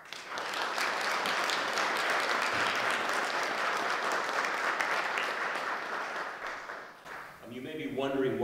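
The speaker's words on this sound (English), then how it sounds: "I just like to give a round of applause to all the people who made this event possible" An audience at a faculty hall of fame event gives a sustained round of applause, loud and even for about seven seconds before fading, then a voice starts speaking.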